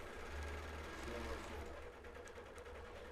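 A sewing machine stitching slowly along a straight line on a quilt, a steady close rattling hum with a strong vibrating buzz underneath, running continuously.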